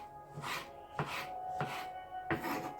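Knife cutting tomato into big chunks on a board, four distinct chopping strokes at an uneven pace, close and fairly quiet, no talking.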